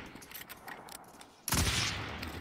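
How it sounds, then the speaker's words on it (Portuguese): Bursts of gunfire from the Call of Duty Warzone video game, a rapid volley that suddenly swells loud and dense after quieter scattered shots and background game noise. "dei-lhe dois tiros, passou-lhe por dentro os dois tiros e o gajo não foi danificado"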